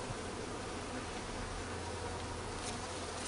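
Dense, continuous buzzing of honeybees and a wasp around an open beehive during a late-August inspection, a close, steady drone with no one talking.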